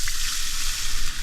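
Bacon fries in a pan during a car-camping breakfast, giving a loud, close, continuous crackling sizzle with no talk.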